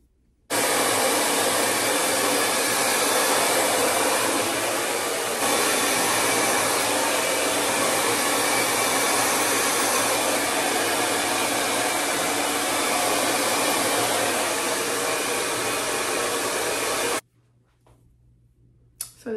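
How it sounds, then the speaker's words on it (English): A handheld hair blow dryer runs continuously at close range, a loud, steady rushing whir lasting nearly twenty seconds before switching off. "So this is my hair blow dry."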